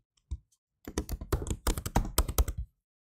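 Password being typed on a computer keyboard: a quick single tap, then a steady run of close, crisp key clicks for about two seconds before stopping.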